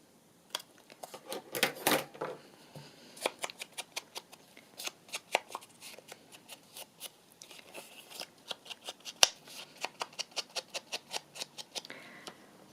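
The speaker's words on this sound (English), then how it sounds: "Especially on something small, just snipping them's enough." Small scissors snip paper corners for a Christmas journal in a steady run of quiet, crisp cuts, close up, with no talk.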